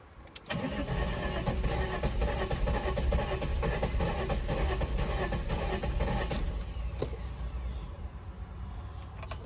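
A 1999 VW Eurovan with a VR6 engine cranks and catches after a brief pause, then runs with a rough, busy rumble and scattered clicks, loud and close with no talking over it.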